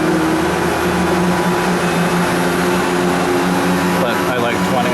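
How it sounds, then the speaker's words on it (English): The compressor of a 2018 Thermal Care 10-ton NQV variable-speed chiller roars steadily as it ramps up, a loud, jet-like drone with humming tones and a brief flutter near the end. "You can hear this noise like an airplane taking off. That's basically the compressor ramping up a bit."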